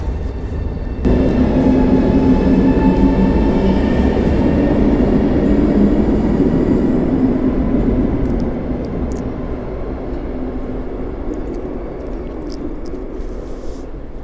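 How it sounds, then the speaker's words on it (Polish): A Pendolino train pulls out of a station, a loud continuous rumble with rising and falling engine tones that fades steadily as it moves away, no voices over it. "Pendolino pojechało do Krakowa, a ja czekam na pociąg inny."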